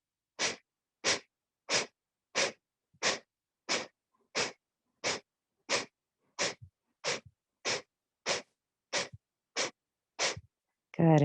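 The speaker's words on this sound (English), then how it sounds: "Let's find that Kapalabhati breathing again." Kapalabhati yoga breathing: a series of about sixteen sharp, forceful nasal exhales as the belly snaps back, evenly paced roughly two-thirds of a second apart, close and airy with quiet gaps between.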